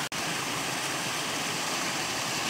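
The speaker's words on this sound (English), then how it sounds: "Just the water is pouring over this rock bluff right here." Steady broadband rush of a waterfall pouring over a rock bluff into a mountain stream, a constant close wash of falling water filling the whole moment with no voices.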